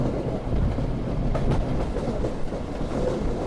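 Punorvoba commuter train, a local service from Rajshahi to Rahanpur, rumbles steadily along the track with a continuous low roar and faint rhythmic clatter, heard from on board with no voices.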